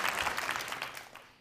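Audience applause at a luncheon, a short burst of many hands clapping that fades out quickly.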